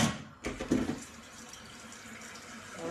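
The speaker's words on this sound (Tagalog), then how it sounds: "Dagdagan natin ng tubig guys kasi kunti lang." Water poured into a pot of meat being boiled on the stove, a short splashing gush near the start, then a softer bubbling, running sound fading through the rest.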